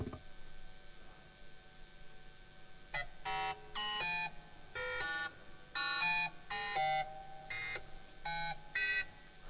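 Buchla modular synthesizer producing bursts of bright, stepped electronic tones in rapid sequenced patterns, starting after a quiet stretch of faint hum and continuing in short repeated phrases, fairly loud with no voices.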